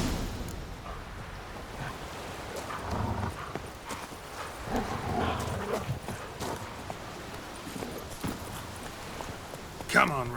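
Roach the horse trotting in The Witcher 3 on Skellige, rhythmic clip-clop hoofbeats beneath game ambience, with voices talking over it and a sharp thud near the end.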